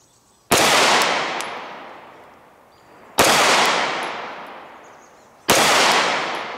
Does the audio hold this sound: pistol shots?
yes